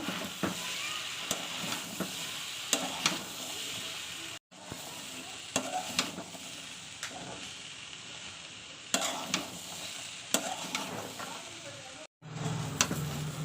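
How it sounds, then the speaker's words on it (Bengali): Curry being stir-fried and reduced in a pan, with steady sizzling and repeated scraping strokes of a spatula throughout, broken by two brief pauses. "এবার এটাকে ভালোভাবে কষিয়ে নেব"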